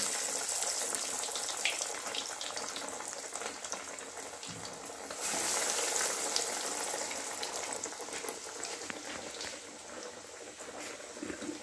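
Chicken cutlets deep frying in hot oil, a steady, moderately quiet sizzle and crackle that holds without a break.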